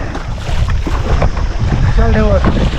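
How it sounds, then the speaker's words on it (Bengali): Loud rushing water and wind buffeting around a small boat on a river at night, with big surging waves close to the microphone and a brief voice near the end. "বড় বড় ঢেউ আসছে"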